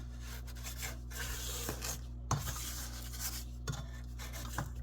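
A spatula scrapes around a stand-mixer bowl of rainbow candy pound cake batter in soft rubbing strokes with a few light knocks, over a steady low hum.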